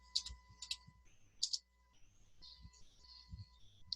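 A computer mouse left-clicks repeatedly during drafting work, a handful of sharp, close clicks spaced irregularly over a quiet background hum.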